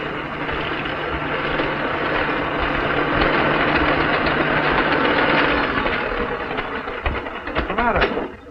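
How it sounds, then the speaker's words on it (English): An old 1930s motor engine runs steadily with a dense rumbling drone and faint knocking, then falters and sputters toward the end as it quits. "The engine just quit."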